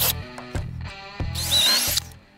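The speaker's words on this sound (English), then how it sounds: "we used a 1/4 inch drill bit for the 3/8 inch lag bolts" Power drill with a 1/4 inch bit boring pilot holes into a wooden fence post for 3/8 inch lag bolts; short bursts of whining motor and bit chatter, close and loud, with a longer high grinding run near the end.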